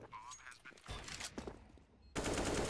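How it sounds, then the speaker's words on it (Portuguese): Bursts of rapid Counter-Strike gunfire fired into smoke during a pro league match, loud and close, with a sustained volley of shots at the end. "ele vai arriscando disparos na smoke, querendo encontrar alguém"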